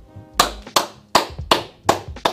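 Six sharp hand claps in an uneven rhythm, loud and close, with no voices over them.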